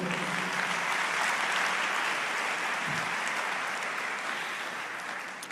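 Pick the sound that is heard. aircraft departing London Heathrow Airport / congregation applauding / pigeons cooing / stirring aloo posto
congregation applauding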